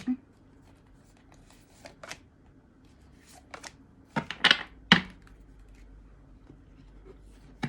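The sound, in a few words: shuffling tarot cards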